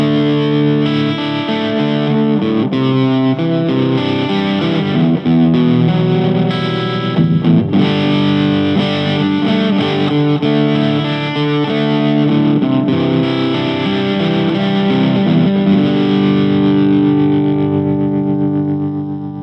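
Distorted electric guitar plays sustained chords and notes through a Fender Mustang LT25 amp, thick and saturated with a chorus-like shimmer, loud and steady throughout with no voices.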